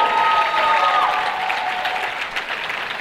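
Crowd applause and cheering for a swing dance team at the 2014 International Lindy Hop Championships team division, a dense steady roar of clapping with a faint whistle, sustained throughout.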